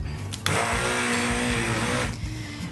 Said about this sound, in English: and then we're going to blend